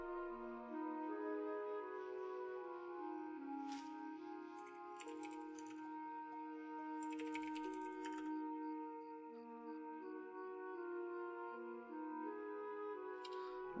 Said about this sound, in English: So I'm just thinking out while I'm typing.